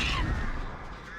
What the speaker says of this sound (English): Now, when you have crows, make sure you repel.